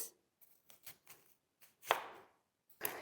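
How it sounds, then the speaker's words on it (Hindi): Onion being sliced into thin rings with a sharp knife on a board: a handful of sparse, crisp chops, some soft and some sharper, close by in a quiet kitchen. "तो आपने काटना है प्याज लच्छेदार"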